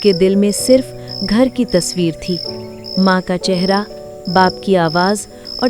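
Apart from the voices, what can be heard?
crickets chirping at night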